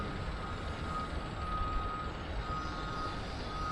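Truck reverse alarm at a working sugar cane factory, a steady high-pitched beep tone heard at a distance over constant industrial rumble and hiss.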